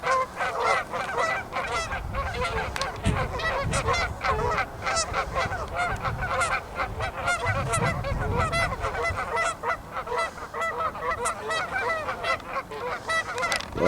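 A flock of geese honks and squabbles continuously, dense overlapping calls close by and fairly loud, with a low background rumble underneath.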